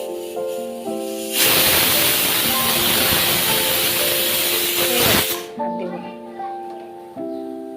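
A pressure cooker whistle blasts a loud, sustained hissing release of steam for about four seconds, cutting off abruptly, with music playing underneath and before and after.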